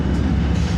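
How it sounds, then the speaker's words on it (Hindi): The 42 Down Karakoram Express, a Pakistani passenger train hauled by locomotive ZCU 306323, pulls in with a loud, close, continuous low rumble of engine and rolling wagons. "42 डाउन कराकरम एक्सप्रेस पाकिस्तान की एक मायनाज रेलगाड़ी ZCU 306323 के साथ"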